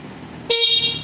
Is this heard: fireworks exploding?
no